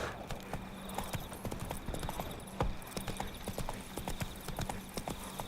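Horse hooves clip-clop in a brisk, regular rhythm in The Witcher 3, close and clear over soft game ambience, with a faint whinny-like tone mixed in.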